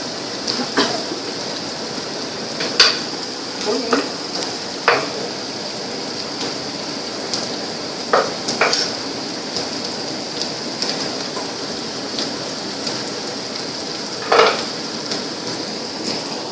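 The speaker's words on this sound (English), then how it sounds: "So cook until the sausages start to give off the oil themselves and they look like they're drying up." Chinese sausages stir-frying for sticky rice, a steady crackling sizzle in the pan broken by a handful of sharp metallic clinks and scrapes of the spatula.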